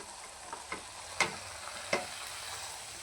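Fried soybeans tossed into a sizzling spiced masala in a pan, a low steady frying hiss broken by a few sharp scrapes and clinks of a spoon stirring close by.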